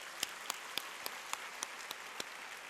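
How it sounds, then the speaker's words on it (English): Faint, sparse clapping at a school event, with a few evenly spaced claps standing out over a soft, steady background hiss. The applause is for student participants at Pawar Public School. "Yes, a round of applause for them, please."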